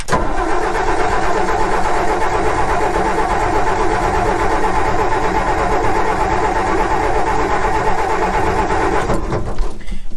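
A 262 inline-six truck engine cranks and fires, then runs loud and steady with a deep rumbling idle before the sound drops away near the end.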